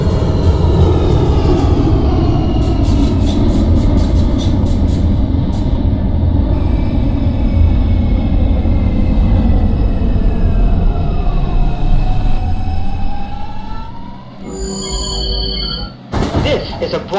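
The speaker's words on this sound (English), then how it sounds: "This is a Bronx-bound 2 express train." A Bronx-bound New York City subway 2 express train runs at speed, a loud steady roar and rumble of wheels on track with rising and falling metallic screeches, ending with a sudden burst of brake squeal near the end.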